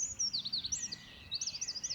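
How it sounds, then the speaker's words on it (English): A stonechat calls near farmhouses in the Hebrides on Coll or Tiree, giving a run of faint, thin, high chirps in quick repeated bursts over quiet background hiss. "like this stonechat"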